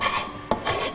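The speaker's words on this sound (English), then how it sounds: "So I got a little scraper here taking care of that." Small hand scraper rasping across a wooden tabletop, a steady close scraping with a sharp stroke midway, no voices.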